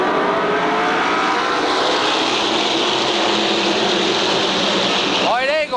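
A pack of SK Modified race cars rumbles off the fourth turn toward the green flag at Waterford Speedbowl, a loud sustained engine roar that swells near the end, with a commentator talking over it.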